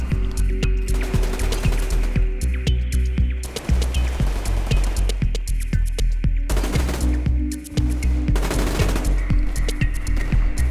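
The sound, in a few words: APS assault rifle gunfire in Survarium video game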